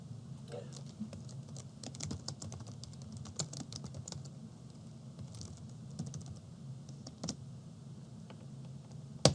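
Quiet, rapid keystrokes on a computer keyboard as C++ code is typed, an uneven run of soft clicks with short pauses and a sharper final tap.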